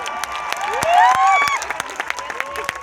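An audience applauding and cheering at a motivational direct-selling event in Varanasi, a dense wash of clapping with voices swelling and then thinning into scattered claps, loud and close.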